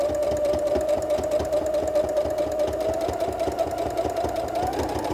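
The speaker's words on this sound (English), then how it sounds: "Then we'll do a reverse stitch. And then we'll just go right down the edge here." Sewing machine stitching along the edge of a pleated fabric face mask, a steady rapid mechanical whirr running continuously and close for the whole stretch, with no talk over it.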